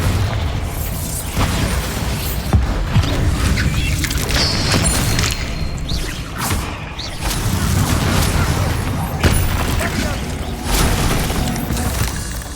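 Spell blasts from Bombarda and Confringo in the Hogwarts Legacy video game, a continuous run of booming explosions and bursts with dense rumbling low end, with shouted spell names woven through the din.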